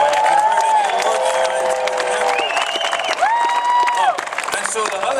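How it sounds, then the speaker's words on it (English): A live concert crowd claps and whoops for the sound man, a steady wash of applause with voices and hollers rising over it throughout. "let's give him a round of applause, by the way"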